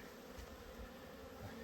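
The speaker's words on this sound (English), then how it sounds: "This one's got bees wall to wall again too" Honeybees buzzing at an open hive during a spring inspection, a steady, fairly quiet swarm drone with no voices, continuous through the short stretch.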